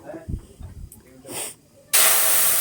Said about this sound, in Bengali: এই যে ঢেলে দিলাম আমি চাটনিগুলো